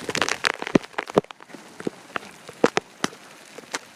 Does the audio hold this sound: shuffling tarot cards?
no